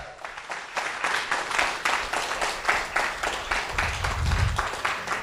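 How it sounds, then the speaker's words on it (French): An audience at an Eddy Parker stage show applauds loudly and steadily, a dense, unbroken wash of many hands clapping together, with a low rumble rising briefly near the end. "tous ceux de la radio, hein, forcément, on les applaudit bien fort, tous en même temps"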